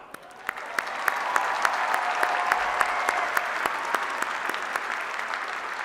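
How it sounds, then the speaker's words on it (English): Audience applause for College of Business graduates at a spring university commencement ceremony, a steady wash of clapping from a large crowd that swells over the first second and holds evenly throughout, with scattered sharper claps standing out. "Now you can applaud."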